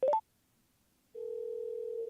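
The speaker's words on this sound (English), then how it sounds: "if you'd like to redial your last number, it's 3 taps of the media button or simply say, hey Cardo, redial number" Phone redial tones from a Cardo HJC 4X Bluetooth helmet communication system: a quick burst of three short rising beeps, a brief silence, then a steady sustained dial tone, clear and close with no talking.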